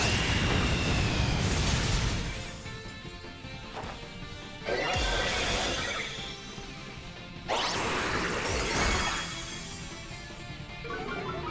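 Attack effects from the move Acid Spray in a Pokémon raid against a 7-star Blaziken, three loud bursting, splashing blasts a few seconds apart, each followed by a fading hiss and game music running underneath.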